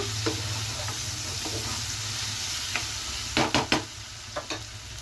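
Potato and tomato curry cooking in a pan, a low steady simmering sizzle with a few sharp utensil clinks and scrapes near the end, no voices.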